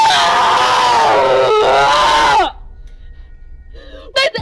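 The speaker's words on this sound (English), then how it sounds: "I had some little girl in the background fucking screaming" A young girl screams loudly and continuously in a high, wavering voice for about two and a half seconds, then cuts off; faint muffled noises and a brief sharp cry follow near the end.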